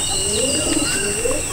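Pigeons at a loft of Kalasabuj, Rampuri and Bajre breeds, heard as steady bird calls and chirps over a constant high hiss, with no clear wingbeats of the release.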